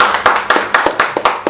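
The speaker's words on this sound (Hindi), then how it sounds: "तालियां कम बजी है क्योंकि अमाउंट कम है" A small seminar audience claps sparsely, a handful of loud, separate hand claps falling in an uneven rhythm close by.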